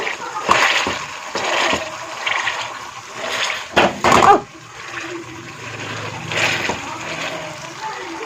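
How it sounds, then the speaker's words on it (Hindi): Cooked tomatoes mashed with a masher in a cooking pot give wet, squelching, splattering pushes in irregular bursts, close and fairly loud, with a few louder squishes near the middle. "अब हम इनको ना अच्छे से मैश कर लेंगे,"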